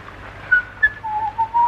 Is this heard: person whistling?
yes